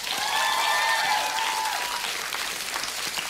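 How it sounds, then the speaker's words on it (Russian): A theatre audience at a comedy duo's show breaks into loud applause that swells and then tapers slightly, with a few faint voices mixed in near the start. "Ваши аплодисменты."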